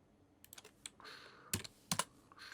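Computer keyboard typing nearby, a few scattered light key clicks followed by two louder, sharper taps, quiet room around them.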